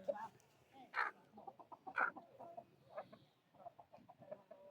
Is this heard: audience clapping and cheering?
no